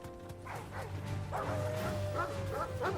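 Dogs in the video game Final Fantasy XVI give a series of yipping barks and whimpers, several short calls spread across a few seconds over a steady low game hum.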